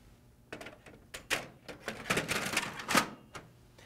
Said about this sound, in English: Now we're ready to put the paper tray back in our printer and run some tests.